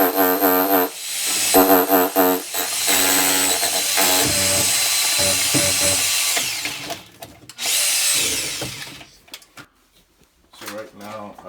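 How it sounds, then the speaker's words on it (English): A drill bores a pilot hole through a brick wall for a bathroom vent pipe, grinding loudly and steadily for several seconds and then stopping, with a short second burst and people talking nearby. "then we can drill from the outside inward for the vent pipe"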